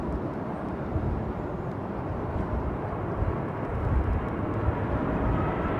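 Emirates EK1 airliner on approach to land at London Heathrow, a steady broadband jet roar and rumble, moderately loud and distant, with no voices over it.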